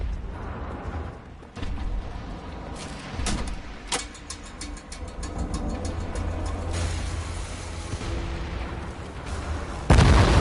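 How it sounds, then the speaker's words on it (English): Explosions and gunfire in the video game Wolfenstein: The New Order: scattered sharp blasts and rattling bursts over a rumbling background, ending with a loud, close detonation. "Oh, I heard an explosion."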